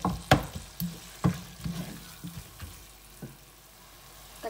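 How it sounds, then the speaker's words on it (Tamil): Two tomatoes sautéing in a pan over browned onions for a spicy chicken gravy, with soft frying crackle under intermittent close stirring knocks and scrapes of a spoon against the pan. "இதையும் நல்லா வதக்கிக்கோங்க."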